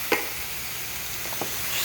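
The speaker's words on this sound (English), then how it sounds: "sounds sizzling" Crushed canned tomatoes sizzling in a hot pot, a faint continuous hiss with a couple of small clicks from a lid, no voices.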